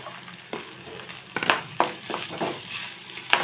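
Urad dal and grated coconut fry in a pan for Palakkad-style pumpkin erissery, a soft sizzle punctuated by repeated scraping spatula strokes and light knocks, close and without talk.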